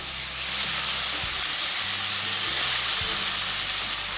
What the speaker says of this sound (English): I have here about 2 onions which are finely diced, and I'm going to add into this and let it brown properly